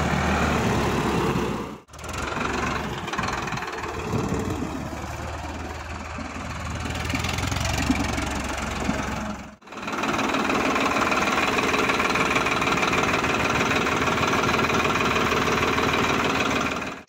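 A Farmtrac 45 EPI Powermaxx tractor's diesel engine idles with a steady rhythmic knocking chug, close and continuous, briefly cut twice before carrying on unchanged.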